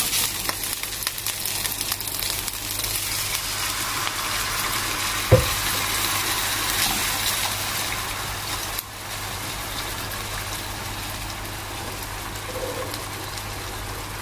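Thai curry paste sizzling steadily as it is stir-fried for chu chee pomfret, a broad, even hiss running throughout with a single sharp clink partway through and no talking.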